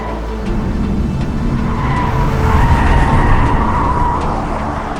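A Hyundai IONIQ 5 N electric race car crosses the Pikes Peak hill climb finish line, with a loud, close tire skid and road roar swelling and fading over a few seconds.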